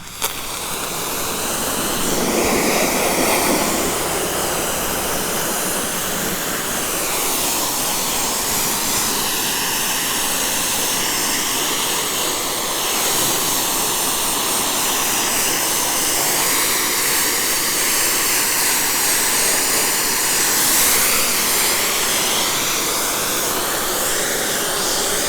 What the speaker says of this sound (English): if you guys hear this pressure washer, it kind of like pulsates. All that's doing is pushing the air out of the hose.